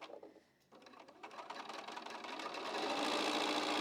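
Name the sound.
sewing machine stitching quilt block pieces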